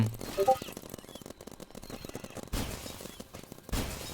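A paintball gun fires in rapid bursts of sharp, dense cracks that run continuously and loudly, with a brief pause before a second volley.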